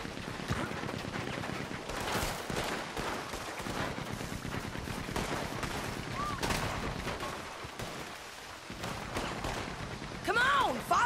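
Dense gunfire in a shootout in the video game Red Dead Redemption 2, rapid overlapping shots and booms in a continuous barrage, with game voices shouting over the fighting.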